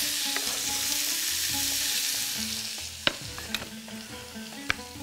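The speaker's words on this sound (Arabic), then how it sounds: "ادي البصل" Onion frying in a pan alongside fried eel, a loud steady sizzle with occasional sharp utensil clicks and stirring, close up with no voices.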